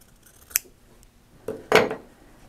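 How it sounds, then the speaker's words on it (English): Scissors trim excess fabric binding on a sewing project, with one sharp snip followed by a pair of louder, crisper cuts, close and alone. "you're going to just take your scissors and you're going to trim that excess binding"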